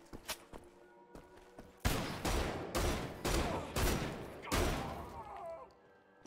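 Loud shotgun blasts in the Wolfenstein: The Old Blood video game, a run of about five heavy booming shots with decaying tails, preceded by lighter clicks and taps.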